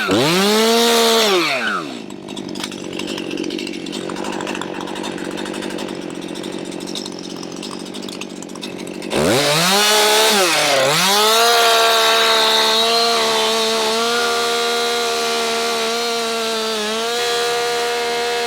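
Chainsaw felling and cutting tree stems for winter firewood in a Shropshire wood: a loud, close engine that revs up, then drops into a steady cutting drone, pauses briefly and roars back for a long sustained cut.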